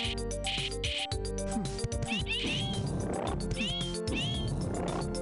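A cat meows repeatedly in the game Mordor: The Depths of Dejenol, loud, drawn-out caterwauling calls rising and falling in pitch, layered over game music and effects with no pause between cries.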